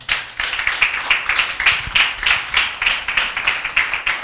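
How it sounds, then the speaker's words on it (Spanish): A church congregation claps in a steady, rhythmic beat, with about three claps per second sustained throughout and a room-filling, moderately loud sound. "Aplauda a mi Señor."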